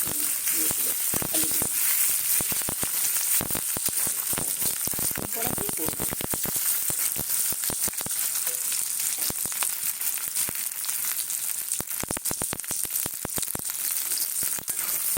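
Potatoes for aloo dum sautéing in hot oil, a steady close sizzle and crackle with frequent sharp spatters and stirring scrapes throughout, no voices.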